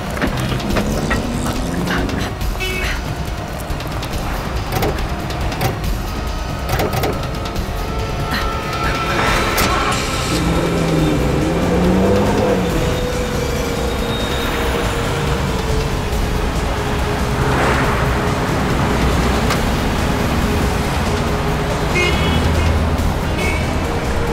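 A car being driven hard, with a dense, continuous engine and road roar that stays loud and steady throughout, plus mechanical rattles and clicks mixed in.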